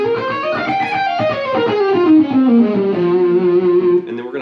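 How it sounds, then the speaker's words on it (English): Melodic line in F Aeolian, the natural minor scale, played through distortion and modulation effects, a sustained processed tone stepping up then down over several seconds, loud and alone. "we're going to basically begin in F Aeolian, or the natural minor scale"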